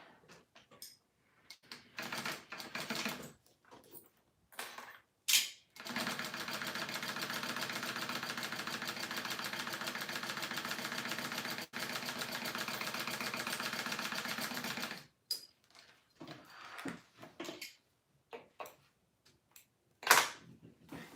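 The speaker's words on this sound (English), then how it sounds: "I am going to go ahead and sew this down first" A sewing machine stitches down part of a Delmar wristlet in one steady, continuous whirring run of about nine seconds, framed by scattered clicks, bumps and handling noises before and after.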